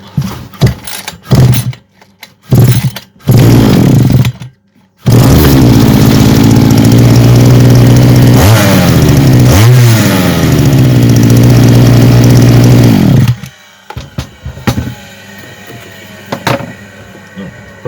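Chinese-made petrol brush cutter with a newly replaced carburetor starts with a few short sputtering bursts, then runs loud and steady for about eight seconds with a couple of revs before cutting out and sputtering again.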